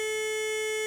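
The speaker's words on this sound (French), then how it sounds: "c'est un bip continu qui nous avertit que là, on est trop creux" An excavator's digging guidance system gives its too-deep warning, a steady, loud, continuous electronic tone that holds unbroken with no talking.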